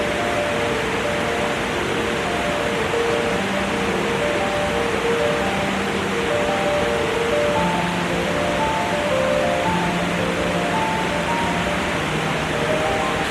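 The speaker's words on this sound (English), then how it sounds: "I could literally sit here and stare at the water forever and just listen to the sound." A waterfall at Mai Châu, Vietnam, flowing in the dry season gives a constant, dense rushing wash of water, steady and unbroken throughout, with faint tonal chirps over it.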